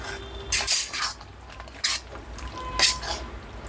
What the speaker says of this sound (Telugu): సో ఇప్పుడు దీన్ని ఒక సర్వింగ్ బౌల్లోకి తీసేసుకుందాం